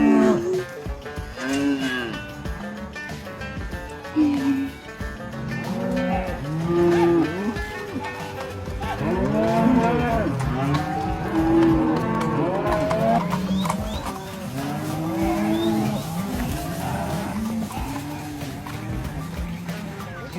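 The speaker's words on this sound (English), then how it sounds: "And this is the end of the cattle drive." Cattle moo loudly and often, many animals calling over one another at close range during a cattle drive through the streets of Mancos, Colorado, with a steady crowd-like din underneath.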